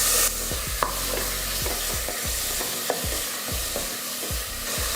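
Onion, garlic, green chili and tomato frying in a little oil, loud continuous sizzling broken by regular rhythmic stirring strokes roughly every half second, no voices.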